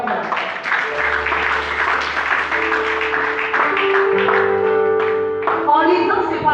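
A church congregation claps and cheers in praise during a worship service, with steady clapping throughout and voices and sung or sustained tones mixed in.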